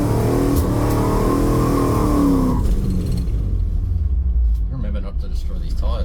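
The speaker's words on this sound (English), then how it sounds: "Right, we're burning out one." A Toyota Troopy drag car on small tyres doing a burnout before a run: a loud, close engine roar and rumble with a rising then falling revving tone, easing toward the end as a voice talks underneath.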